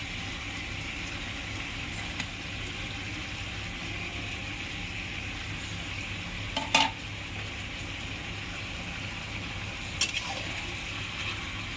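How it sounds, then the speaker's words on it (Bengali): Chicken with ginger and garlic sizzles in a frying pan, a continuous frying hiss with a low steady hum underneath and a couple of brief clinks of a spoon against the pan, village-style home cooking. "আদা রসুন দেওয়ার পরে একটু নাড়াচাড়া দিয়ে নিয়ে তারপরে জিরে আর লঙ্কা বাটাটা দিয়ে দেবো"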